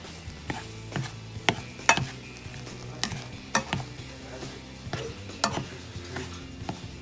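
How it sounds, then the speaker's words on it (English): Seasoned quinoa, chicken and vegetables being stirred in a pan, with repeated sharp scrapes and clinks of the utensil against the pan over a light sizzle, close and fairly rhythmic. "I'm probably gonna stir it in because I want to mix it in"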